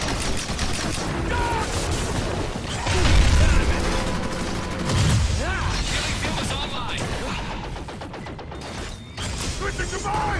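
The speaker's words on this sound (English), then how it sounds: "That's some pretty good shooting action. They're not just regular pistols." Pistol gunfire from the hunting video game Evolve rattles through dense game noise with crashes and booms, steady and loud, as people talk over the action.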